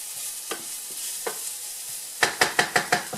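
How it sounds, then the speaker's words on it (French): Shallots sweat in a lightly oiled pan with a soft steady sizzle, a few scattered stirring taps, then a quick run of five sharp rhythmic scrapes near the end, close and without talk. "l'idée est de faire suer les échalotes quelques secondes"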